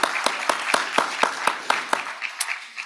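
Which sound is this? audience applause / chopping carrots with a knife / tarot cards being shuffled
audience applause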